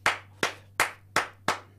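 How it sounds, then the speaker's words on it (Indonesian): A fan watching Indonesia's U-23 football match against Uzbekistan claps by hand: six sharp, evenly spaced claps about 0.4 seconds apart, close and distinct, over a faint steady hum. "tepuk tangan dong"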